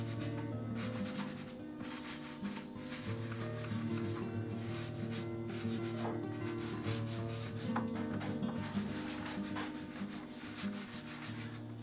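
Steady brushing and rubbing of weathering powder into a roundhouse machine shop model kitbash, a continuous close scratchy scrub with quick back-and-forth strokes, with no voices.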